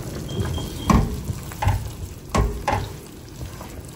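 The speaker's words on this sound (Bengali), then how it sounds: "এখন আমি পেঁয়াজ আর যে কাজুর পেস্টটা বানালাম সেটা এর মধ্যে দিয়ে দিচ্ছি।" Onion and cashew paste drops into chicken frying in ghee, setting off bursts of crackling sizzle with a few loud plops and stirring scrapes over a steady background hiss.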